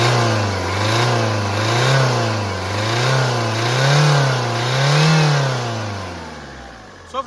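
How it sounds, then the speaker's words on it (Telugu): A 2012 Ford Figo ZXi diesel engine revs up and down repeatedly in several smooth rising and falling swells, loud and close, with no talk. "బ్యాక్ కంప్రెషర్ చెక్ చేద్దాం, యాక్సిలరేటర్ ఇప్పిద్దాం"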